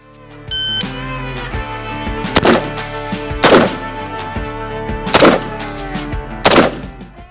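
Several loud, sharp gunshots crack out at irregular intervals during a timed shooting drill comparing an AR-15 rifle with a shotgun, with fainter reports between the heaviest blasts.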